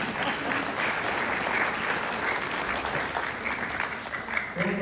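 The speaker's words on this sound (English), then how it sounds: "Everybody should be clapping about that." Sustained, even applause from a gathered audience, a dense wash of clapping that holds steady for several seconds at moderate volume, with faint voices underneath.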